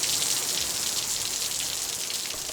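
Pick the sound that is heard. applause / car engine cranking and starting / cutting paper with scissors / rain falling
rain falling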